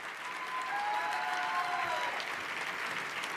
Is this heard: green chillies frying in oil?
no